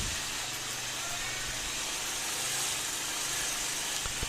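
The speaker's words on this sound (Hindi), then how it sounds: "अब ये बाइक स्टार्ट हो गई है" A Bajaj Avenger motorcycle engine idles steadily, a constant low rumble under a broad hiss, with no speech.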